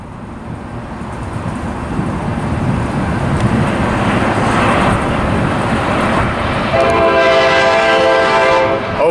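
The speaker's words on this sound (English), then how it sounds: "here comes 579 departing San Diego with 6905 leading the way here." Coaster commuter train 579 pulls out of San Diego behind locomotive 6905, a steady loud diesel rumble throughout, then a long multi-tone horn blast sounds near the end.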